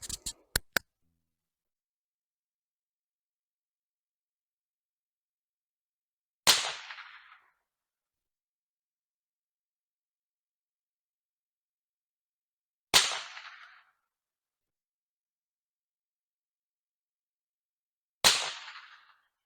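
Three sharp, unsuppressed supersonic .22 Mini Mag rifle shots ring out singly at roughly six-second intervals, each a loud crack with a brief decaying echo, after a few quick clicks at the start and silence between shots.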